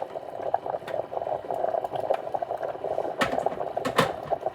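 Potatoes boil in a steamer with a steady bubbling burble, dotted with small pops and a few sharper bursts near the end, close and fairly loud with no talking.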